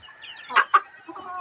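A white hen gives two sharp, close clucks in quick succession, followed by softer murmuring calls.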